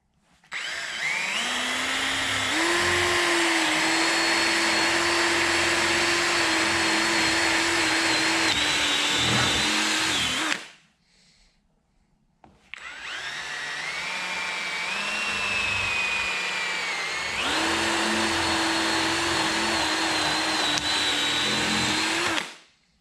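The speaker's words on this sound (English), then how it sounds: "So we're going to drill a 1/2 inch hole" A power drill whines loudly and steadily as it bores a half-inch hole through rubber, stops briefly, then runs again at a high, sustained pitch.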